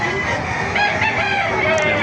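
A rooster crows loudly nearby at a market in Bocaue, its drawn-out call rising and falling over a background of other fowl.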